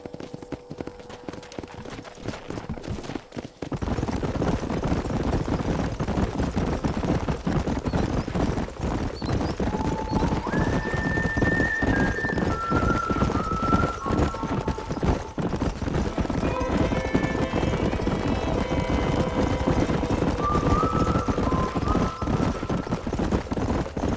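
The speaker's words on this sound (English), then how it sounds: "There's the horses!" Horses in the Western video game Red Dead Redemption gallop nearby with a steady, dense clatter of hooves, and several whinnies ring out over the galloping in the second half.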